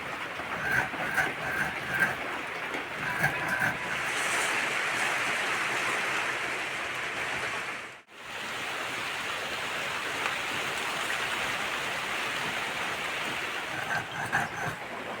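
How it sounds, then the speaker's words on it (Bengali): Monsoon rain pours down in a steady, hissing wash, continuous and fairly distant, with a brief hush midway before the downpour resumes. "এই বর্ষার সময় মেঘ লাগলেই জল হচ্ছে ওই যে জল পড়তে লেগেছে"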